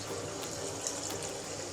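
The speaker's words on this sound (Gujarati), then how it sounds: "હવે આપણને લાગે કે ગ્રેવી થોડી ઘટશે તો થોડું પાણી એડ કરવાનું." Water is poured into a simmering brinjal curry gravy, a short steady splashing pour heard close and alone.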